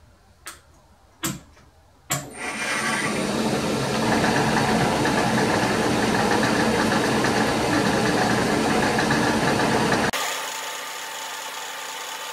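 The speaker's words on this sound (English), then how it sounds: "I run my machine at about 1000 RPM when I'm doing these little touch-offs." A metal lathe spinning at about 1000 RPM on a powered slotter build, starting after a few sharp knocks, then a steady whirring hum that holds evenly before dropping to a lower drone.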